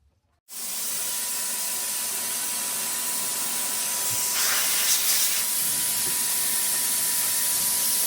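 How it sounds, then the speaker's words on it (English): A Wagner Flexio spray gun sprays mineral spirits with a steady, loud, close hiss that starts abruptly and runs on without pause, swelling slightly partway through. "I'm going to be spraying mineral spirits"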